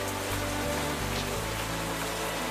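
Rain falls steadily in Minecraft, a continuous dense hiss of drops with a low droning tone beneath, constant and unbroken.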